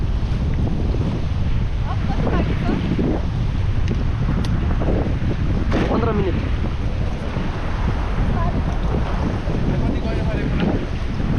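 Water on the Trishuli river rushes steadily during rafting, with heavy wind buffeting the microphone. Voices speak intermittently over the constant roar.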